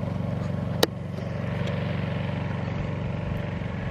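A Honda EU2200 portable generator runs behind a truck camper while charging batteries, a steady, even engine hum that holds throughout at moderate distance, with one brief sharp knock early on.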